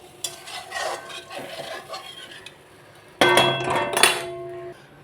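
Fried potatoes go into a pot of simmering fish curry with a few clinks and knocks of metal utensils against the pot, followed by a louder clattering, stirring burst; close and fairly quiet, no voices.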